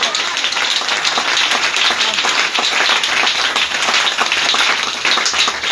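A church congregation in Gamboma claps and cheers in sustained, loud applause that stays even throughout, with voices mixed into the crowd noise.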